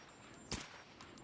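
A single sharp gunshot in a forest firefight in a video game, GAMMA, loud and abrupt, followed by a couple of fainter distant shots against quiet background.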